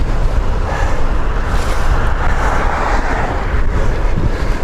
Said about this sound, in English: Running into the wind right now, pretty strong.